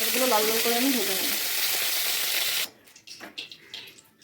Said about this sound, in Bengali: পটলগুলো লাল লাল করে আমি ভেজে নেব